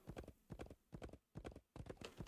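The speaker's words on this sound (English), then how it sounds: "This is Orion, the magic horse." Horse hooves clip-clopping in the Wild West Dynasty video game, a steady walking rhythm of paired hoof strikes, close and clear with no talk over them.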